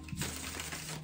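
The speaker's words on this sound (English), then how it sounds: "Let's give this a shuffle. Clarify the deck." A deck of tarot cards being shuffled gives a dense, close burst of papery riffling and slapping that lasts about a second.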